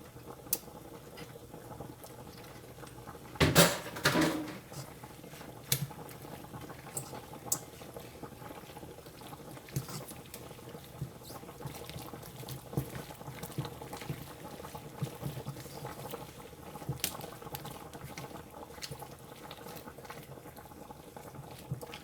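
Soft, steady bubbling and pattering of water boiling in a pot as elbow macaroni goes in, faint and continuous, with a brief louder clatter near the start.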